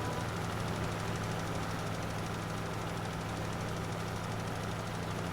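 John Deere tractor engine in Farming Simulator 22, working an uneven field: a steady low idling drone with a rough knocking rumble, constant and close for the whole stretch.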